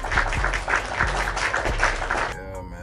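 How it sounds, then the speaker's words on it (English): Rhythmic clapping with a few distinct heavy beats under it, loud and close, cutting off abruptly near the end into a brief quieter tonal sound. "Give it a round of applause."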